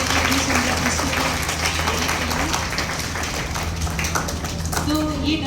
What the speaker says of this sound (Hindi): जोरदार तालियों के साथ बच्चों का धन्यवाद करने के लिए सुंदर प्रस्तुति।